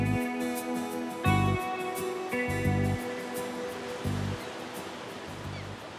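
Ocean surf washing ashore at Lofoten in Arctic Norway, a steady broadband roar with several louder breaking swells rising and falling every second or so, no voices.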